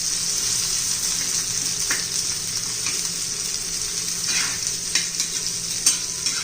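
Onions frying in oil in a pan for a spicy green chilli side dish, a steady close sizzle with occasional scraping stirs growing more frequent toward the end, no voices.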